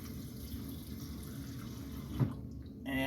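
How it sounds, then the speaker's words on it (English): A steady stream of tap water fills a container holding noodles in a workplace kitchen, running continuously with a brief clunk near the end as the flow changes. "and I'll fill this up full of water"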